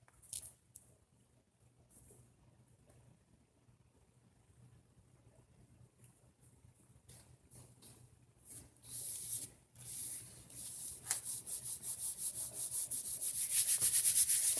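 Excess glue is rubbed off a paper envelope with soft, faint, scratchy strokes. They start sparse and quiet, then grow faster and louder into a steady brushing toward the end.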